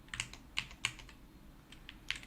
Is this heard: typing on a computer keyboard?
yes